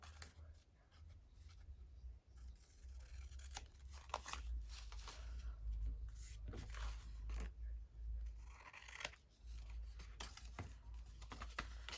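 Scissors trimming a book page for a junk journal envelope holder: quiet, close snips and paper rustles scattered across about twelve seconds against a low background hum.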